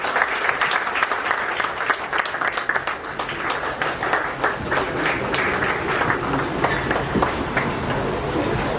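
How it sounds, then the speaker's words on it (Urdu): A large audience at a May Day gathering in Mirpur, Azad Kashmir gives sustained, dense applause as a speaker is welcomed to the stage. The clapping is close and continuous, with no speech over it. "آپ کی بھرپور تالیوں میں سٹیج پہ بلاتا ہوں"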